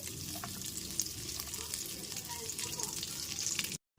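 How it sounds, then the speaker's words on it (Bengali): Raisins fry lightly in a pan over a low gas flame with a close, continuous crackling sizzle and faint stirring, stopping abruptly at the end. "কিশমিশটাকেও হালকা করে ভেজে নিতে হবে"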